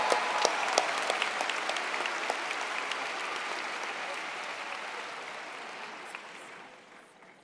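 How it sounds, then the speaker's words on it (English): Sustained applause from a convocation audience honoring the Teachers of the Year, a steady wash of clapping that holds for several seconds and gradually tapers off near the end, with no talking over it. "let's give our Teachers of the Year one last round of applause."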